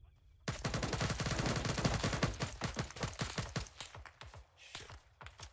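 Automatic gunfire in Arma 3 (S.O.G. Prairie Fire) during an assault on an artillery position: a loud, close stream of rapid shots that begins abruptly, then thins into sparser, irregular bursts.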